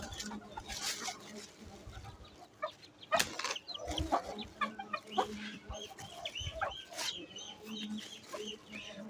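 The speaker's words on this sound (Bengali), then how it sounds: "কবুতরের খাবার খাওয়ার জন্য অনেকগুলো মুরগি এসেছে, এগুলোকে তাড়াই দিতে হবে" Chickens cluck and squawk around pigeon feed in a backyard coop, with scattered sharp calls, pecking and rustling close by at moderate volume.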